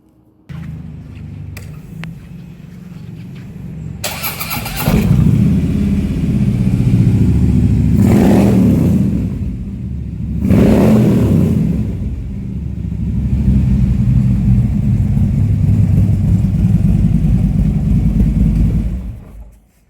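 A 2014 Harley-Davidson Street Glide with a 1690cc Twin Cam 103 engine fires up with a loud burst, then settles into a deep rumbling idle broken by two sharp revs, close by.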